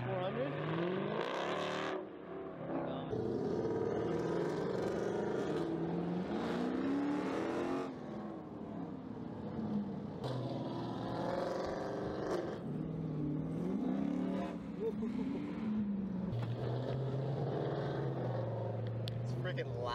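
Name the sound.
loud Dodge car engine driving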